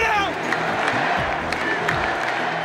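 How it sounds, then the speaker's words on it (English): A loud basketball arena crowd at the Delta Center roars and cheers in a dense, continuous wash, with voices audible within the noise. "I expect that crowd to be extremely loud, a little bit rowdy, and ready to roll."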